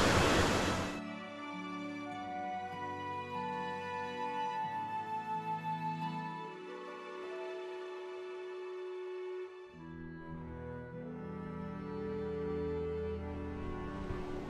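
Whittier Falls, a waterfall on a brook at Castle in the Clouds in New England, pours in a steady, full rushing wash that stays close and loud throughout, with no voices over it.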